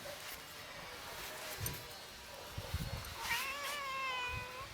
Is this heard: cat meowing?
yes